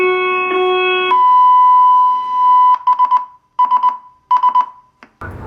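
Ship's general, chemical and collision alarms sounded from the bridge as a test: a steady multi-tone horn, then a single sustained pure tone, followed by repeated pulsing buzzer bursts, loud and reverberant.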